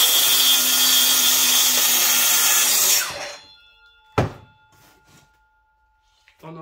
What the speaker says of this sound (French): On positionne la scie sur son rail.